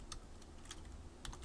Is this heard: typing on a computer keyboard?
yes